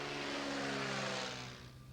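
Float plane propeller engine droning loud and close in Fiordland, a steady roaring buzz that fades slightly toward the end.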